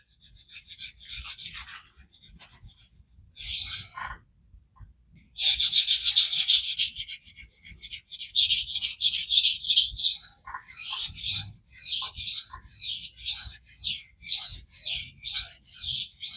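A Kershaw Iridium D2 knife blade is drawn over a vitrified diamond stone in a series of rhythmic, raspy scraping strokes. The strokes come close and fairly crisp, quickening into short repeated passes near the end.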